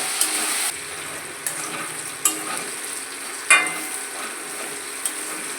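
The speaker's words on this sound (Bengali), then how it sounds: "আলু ভাজা ভাজা হচ্ছে।" Potatoes fry in oil in a covered pan after salted water is added, giving a steady soft sizzle broken by a few light clinks of stirring.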